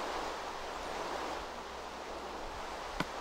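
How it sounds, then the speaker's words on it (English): Flowing water in Minecraft plays as a soft, steady rushing wash, faint and continuous with no talk over it. "I knew I was hearing water."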